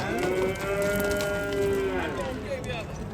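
An ox at a busy rural livestock bazaar gives a long drawn-out moo, with another lowing call close behind, over constant crowd chatter and market noise.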